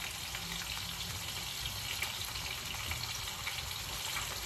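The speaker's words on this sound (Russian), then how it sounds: "Классно, да, вот так вот свежую рыбку пожарить, вкуснятина." Small fresh whole fish fry in a pan with a continuous, even sizzle and crackle. It is close but fairly quiet, with no voices.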